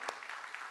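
A church congregation at a Sunday worship service claps in a brief, soft patter of applause that is already under way.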